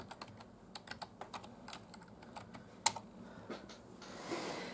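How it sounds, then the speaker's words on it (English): Keys tapped on a computer keyboard while a password is entered, a quick irregular run of light clicks close by with one sharper keystroke near the end, then quiet room tone. "just get my password typed in"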